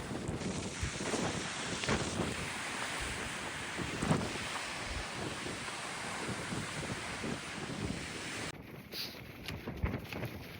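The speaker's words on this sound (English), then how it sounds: "It's also fucking windy here." Strong, steady wind roars and buffets the microphone continuously, with gusting rumble and no voices, on the Transgrancanaria race course in Gran Canaria.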